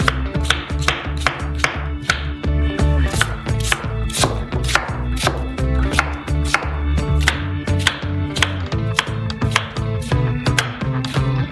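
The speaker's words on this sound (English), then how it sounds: "Cut the fruit into cubes" Knife chopping peaches into cubes on a board, a steady run of crisp, close, evenly spaced strikes with no talking.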